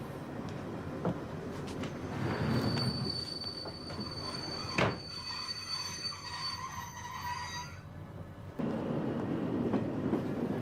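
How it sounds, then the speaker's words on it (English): Train brakes screeching on a railway carriage as it slows: a loud, sustained high metallic squeal with several steady tones over the rumble of wheels and rolling stock, ending abruptly and giving way to low running noise. "his hand falls limply into the aisle, punctuated with the screeching brakes of the train"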